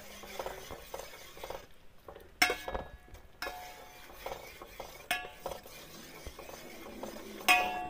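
Spoon stirring jaggery syrup with a spoonful of ghee in a pan for Kerala-style ada pradhaman, with scraping clinks against the metal and a soft sizzle, a few sharper knocks standing out, no talking.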